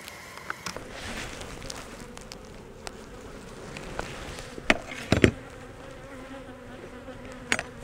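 Honey bees buzz around an open hive during a queen inspection on a wildflower meadow, a steady close drone of many insects with occasional sharp clicks and knocks of hive handling.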